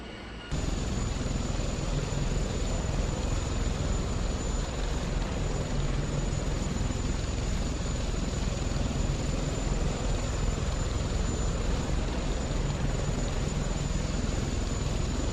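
Steady, loud rotor and turbine drone of a Sikorsky Sea Stallion helicopter in the Prepar3D flight simulator, a continuous dense roar with a thin high whine, holding level throughout after a brief quieter start.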